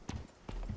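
Horse hooves in the video game Icarus, two quick clip-clop steps close by, each a dull thudding impact with a short tail.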